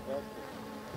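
Bees buzz softly and steadily as they are moved from a catcher box into a top bar hive, a low hum that swells briefly near the start and again at the end.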